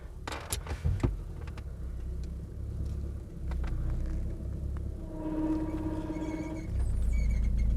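Car engine rumbling under load as it strains to pull a heavy threshold stone, a steady low growl with a few sharp knocks near the start and a rising revving tone toward the end.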